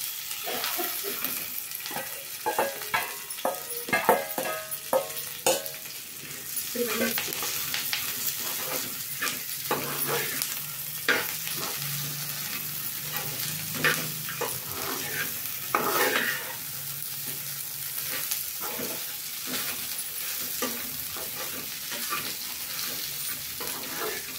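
Okra pieces and peanuts frying in an oiled pan, with a steady sizzle under repeated scraping and stirring clatter from a utensil against the pan.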